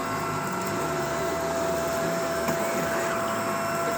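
A Shark Rotator or Navigator Lift-Away upright vacuum cleaner runs steadily, a loud, constant motor whine and airflow rush with a fixed high tone, close by and without pause.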